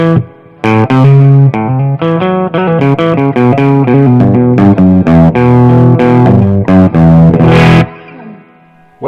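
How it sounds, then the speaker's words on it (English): Electric guitar played through a Marshall JCM800 2205 amplifier with reverb on, a loud distorted run of chords and notes that ends in a sustained ringing tail fading into the reverb. "I'll go ahead and show you that the reverb's working"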